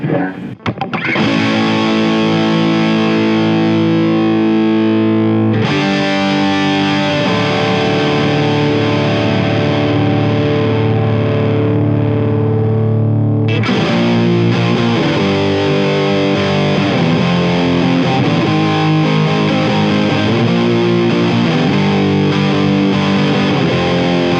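Electric guitar through a Boss DS-1 distortion pedal set to maximum distortion, heavily saturated, playing sustained, ringing chords, loud and upfront, with brief pauses between strummed phrases.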